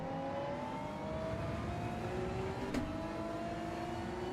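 Race cars in the Gran Turismo 7 racing game, a steady engine drone with a few rising and falling tones and no voices.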